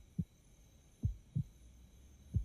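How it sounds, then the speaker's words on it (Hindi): A movie sound effect of a heartbeat plays as four deep, muffled thumps at an uneven pace over a faint hum, with no talk. "तुम्हें सुनाई दे रही है क्या मेरे दिल की धड़कन?"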